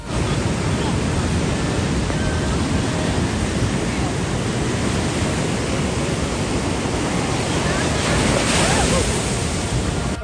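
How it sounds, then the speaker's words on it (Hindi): Sea waves break and wash continuously along a rocky shore, a loud, steady roar of surf with wind across the microphone and no let-up throughout. "ये लहर आ रही है, लेकिन हम लोग जो है भीगना नहीं चाह रहे हैं लहर में।"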